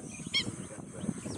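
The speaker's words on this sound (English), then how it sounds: "A spot-billed pelican." A spot-billed pelican gives a short honking call in a dry lowland lagoon setting, a brief nasal burst standing out over steady outdoor background noise.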